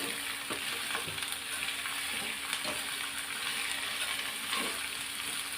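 Constant crackling sizzle of vegetables cooking in a hot pan, with occasional scrapes of stirring, close and steady throughout.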